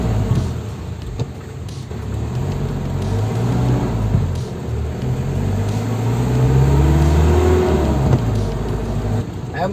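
A Nissan Urvan van driving on a road test, with a steady engine drone and rising and falling gear whine as it accelerates, while someone talks over it.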